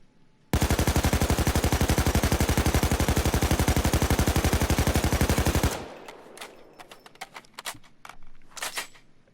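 Full-auto fire from an AK5 assault rifle in the video game Payday 2: one unbroken, rapid stream of loud shots for about five seconds, then scattered single cracks and short bursts with quieter gaps between them.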